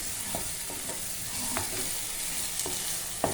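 Already-roasted onions sizzling and frying in a pan for a prawn and tomato curry, with a steady soft crackle and a few scrapes of a stirring spoon.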